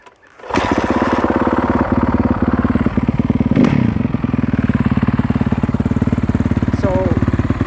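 A Honda CRF450R dirt bike with a Yoshimura exhaust fires up and settles into a loud, close idle, its rapid, even thumping steady throughout with a brief swell partway through.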